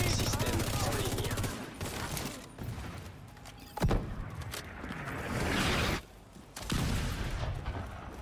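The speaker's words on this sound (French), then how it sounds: "Je tire sur l'ennemi" Gunfire in the video game The Division 2, with bursts of rapid shots and heavy booms arriving in waves, separated by short quieter gaps.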